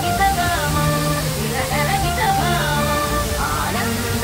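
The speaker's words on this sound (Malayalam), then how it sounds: "പൂമാല ഞണ്ടുരുക്കി വെള്ളച്ചാട്ടം." Njandirukki waterfall at Poomala near Thodupuzha, a steady, loud broadband rush of falling water that stays constant throughout, with a voice or tonal sound running over the roar.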